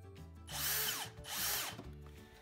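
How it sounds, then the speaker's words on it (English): Two short bursts of a power drill whirring up and down as a screw is driven into the wood of a rustic log rocking chair, close and fairly loud. "I can use a drill against the ground to put this screw in"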